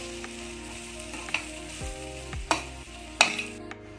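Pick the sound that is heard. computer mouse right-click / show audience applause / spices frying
spices frying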